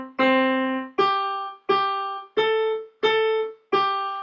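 Six single piano notes struck one at a time at an even pace, each ringing out and fading before the next, a plain melody with no accompaniment.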